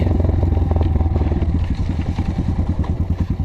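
A KAYA 512 motorcycle with an ordinary 172 engine thumps close by while being ridden, its pulses speeding into a rapid, even rhythm as the revs rise.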